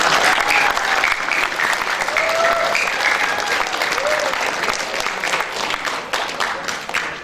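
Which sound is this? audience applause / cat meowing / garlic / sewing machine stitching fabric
audience applause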